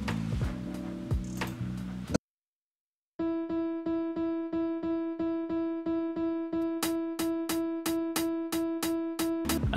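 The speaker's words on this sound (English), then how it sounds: "I added a piano which plays one note" A piano repeating one root note in a steady pulse on each hi-hat beat, clear and bright within a beat, with crisp hi-hat ticks joining partway, after a brief busier passage and a moment of silence.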